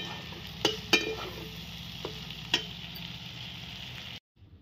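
Food frying in oil in a home kitchen, a steady soft sizzle with a few sharp pops and clatters, ending abruptly in silence.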